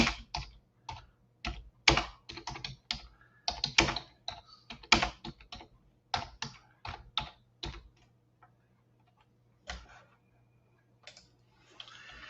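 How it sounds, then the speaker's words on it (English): A chat message is typed on a close computer keyboard in crisp, fast runs of keystrokes that trail off into a few scattered taps, with quiet gaps between. "Let me type a little message in here to the chat."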